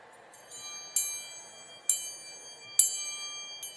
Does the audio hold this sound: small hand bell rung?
yes